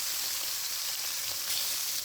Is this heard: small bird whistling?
no